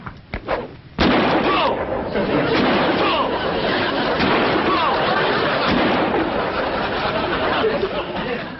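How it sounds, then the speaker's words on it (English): Shotgun fired at thrown clay targets outdoors in a 1963 sitcom scene: one sharp blast opens, followed by a dense, continuous roar of laughter or crowd noise with voices mixed in. "I think you better use the shotgun"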